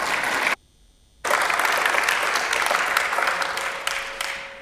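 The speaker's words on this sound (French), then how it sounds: "Et vous pouvez l'applaudir." Audience applause at a conference on artificial intelligence, a steady burst of clapping that breaks off into near silence, then returns full and gradually fades away.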